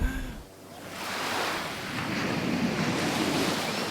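Ocean waves break on the shore in a broad, steady wash of surf with wind rumbling against the microphone, close and continuous.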